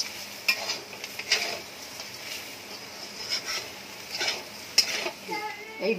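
Rice scraped and stirred in a hot pan, a soft sizzle beneath repeated clinks and scrapes of a spoon against the metal, close and fairly quiet, with no talking.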